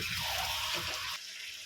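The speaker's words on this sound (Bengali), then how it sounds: "আমি এই গরম জলটাই মাংসের মধ্যে ঢেলে দিচ্ছি" Warm water pours into chicken curry with potatoes simmering in a pan, a steady splashing hiss for about a second before easing off to a quieter bubbling.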